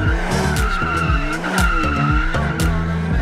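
A BMW M2 Competition F87 on sticky tires with a RaceCube exhaust drifts, its tires squealing loudly and continuously while the engine revs rise and fall beneath, close and alone.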